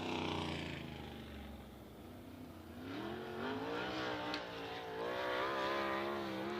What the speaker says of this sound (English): Next group of cars rolling trackside now for Flight B.